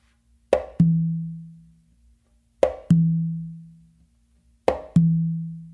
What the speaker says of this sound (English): you're going to do a close slap with your non-dominant hand again on your main drum